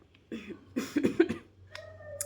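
A few harsh, close coughs in quick succession, followed by a brief throat sound in an otherwise quiet room.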